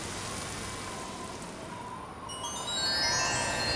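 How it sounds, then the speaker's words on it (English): Steady rain patters outside an airplane window in a Peppa Pig cartoon, a dense continuous hiss that swells slightly louder toward the end, with no voices over it. "It's all cloudy and rainy."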